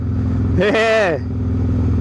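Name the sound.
Dyna motorcycle engine while riding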